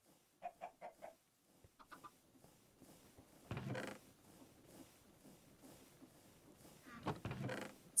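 Chickens cluck in the Minecraft-style modpack Haven: CaveBlock, a few short rhythmic clucking bursts near the start, then softer rustling and scattered game sounds.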